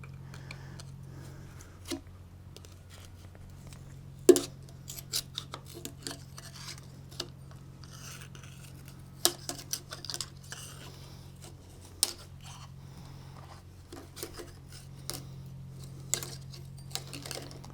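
A gasket scraper works an old head gasket off a blown engine, giving sparse scraping clicks and sharp metallic ticks at irregular intervals over a steady low workshop hum.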